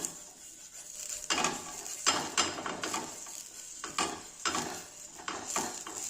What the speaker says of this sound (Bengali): তেল ব্রাশ করে নেব।